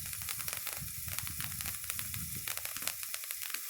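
Patriot Stick fireworks sizzle and throw sparks at night, making a steady, crackling hiss with dense, irregular pops that keeps going the whole time.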